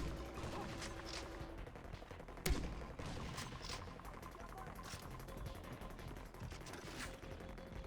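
Video game combat at an island air base: a sharp grenade launcher blast stands out from steady, low-level gunfire and explosions that continue throughout, with no voices.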